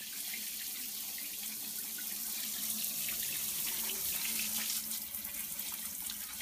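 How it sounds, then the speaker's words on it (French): A bathroom tap runs steadily while feet are rinsed, a continuous hissing splash of water that stays close and fairly even throughout, with no one talking. "direction la salle de bain, on rince, on savonne et c'est fini"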